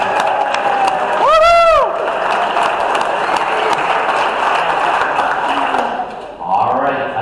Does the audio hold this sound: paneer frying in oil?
no